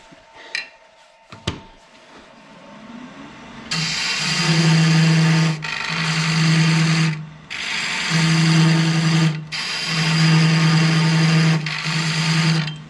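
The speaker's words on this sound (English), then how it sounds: "I've got to cut this groove here to that diameter" A cutting tool carves a groove in cherry wood to a set diameter for a bathroom vanity cabinet, loud steady humming bursts that start and stop in several runs after a few quiet clicks.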